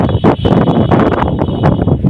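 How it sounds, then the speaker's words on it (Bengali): Wind blows hard outdoors under cloudy skies, buffeting the microphone with loud, uneven rumbling gusts throughout. "এই যে হাওয়া দিচ্ছে পুরো মেঘ কেটে যাবে"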